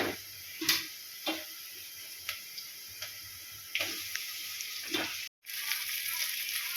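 Rice with onion, chili and garlic frying in a pot, giving a steady faint sizzle broken by several soft clicks and taps from utensils, with no talk over it.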